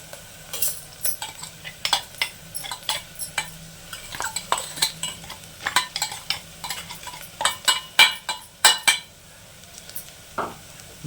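Masala fries in oil in a pan while a spoon stirs it, giving repeated scraping clinks against the metal in an uneven rhythm over a soft, constant sizzle, close up and with no talking.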